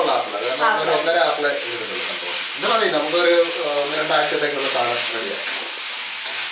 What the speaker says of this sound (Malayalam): നന്നായിട്ടൊന്ന് വഴഞ്ഞു വേണം